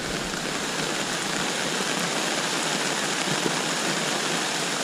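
Heavy monsoon rain pouring down over a flooded neighborhood and basketball court in a constant, dense hiss, loud and unbroken throughout with no voices.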